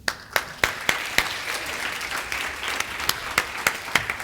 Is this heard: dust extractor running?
no